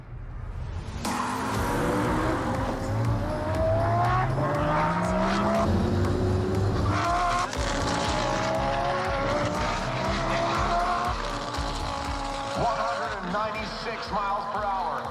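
A heavily modified Lamborghini in a half-mile standing-start race, a sudden loud launch with rising engine howl through the gears and fading into a sustained high-revving roar, with a voice talking over it.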